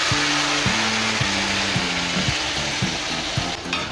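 Boiled dal poured into frying masala for egg tadka, a steady loud sizzle and bubbling hiss with a repeating low mechanical hum pulsing underneath.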